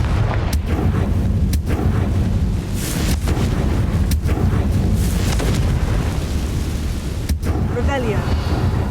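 Fire-spell blasts in Hogwarts Legacy, several sharp booming bursts spaced irregularly over a rumbling game background, with a spoken incantation near the start.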